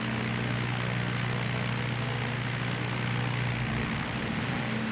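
A propeller aircraft engine drones steadily under throttle in Microsoft Flight Simulator, a loud continuous hum with a low tonal buzz that shifts slightly near the end.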